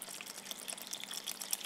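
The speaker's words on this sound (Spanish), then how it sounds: "Ahora le voy a agregar agua" Water pours steadily into a blender holding cooked barley for a brief moment, a soft bubbling splash heard up close.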